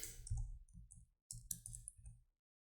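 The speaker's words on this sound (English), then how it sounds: "So I'm just double clicking on this." Computer mouse buttons clicked in quick pairs while working in circuit simulation software, crisp close-up double clicks repeating several times with short pauses between them.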